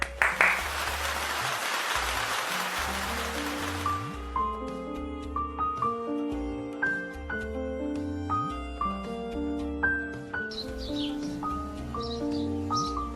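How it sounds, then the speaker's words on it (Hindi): A brief burst of audience applause welcoming a poem at a Hindi poetry gathering lasts about four seconds and then stops. Soft melodic instrumental music follows with a steady plucked rhythm. "जोरदार तालियों के साथ स्वागत करते हैं"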